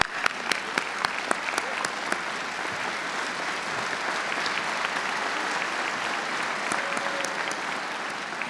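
Sustained applause from a large audience at a university commencement ceremony, steady and even throughout, with a few sharper individual claps standing out early on.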